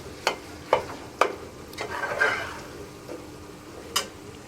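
A spoon repeatedly taps and scrapes a pan as cooking calf brain is broken into small pieces, several distinct clinks over a low sizzle.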